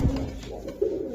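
Several fresh pigeons offered for sale at a Bangladeshi market, including red Gola, silver Giribaz and Pakistani breeds, giving soft, close coos with low murmuring throaty notes, no talking over them.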